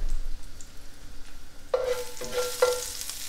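Garlic drops into a hot frying pan and bursts into a loud, bright sizzle partway through, with a few stirring scrapes after a quiet start.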